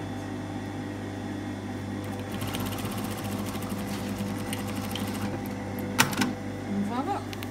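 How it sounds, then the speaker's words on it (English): A sewing machine stitches a straight row across the yoke of a tunic, its fast steady whirring running throughout at close range beneath faint background noise, with a brief clatter near the end. "Row of stitching,"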